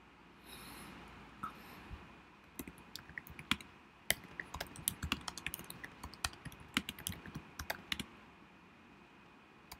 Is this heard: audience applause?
no